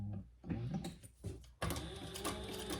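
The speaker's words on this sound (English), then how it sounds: "now I'm just going to baste right inside that line" A sewing machine bastes a pattern piece in short stitching bursts: a couple of brief, faint runs with pauses, then a steadier whirring run to the end, close by and quiet, with no talking.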